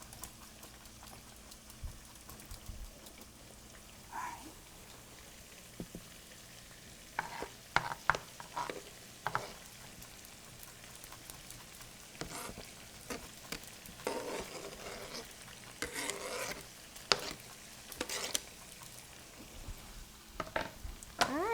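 Peppers sizzle in a hot pan while whole wheat pasta pesto is cooked, giving a soft, steady crackle with scattered sharper pops and stirring sounds, fairly quiet throughout, with no talking.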